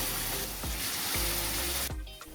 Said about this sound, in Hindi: उसके बाद हमने बहुत ही कम तेल में इन फिले को फ्राई कर लिया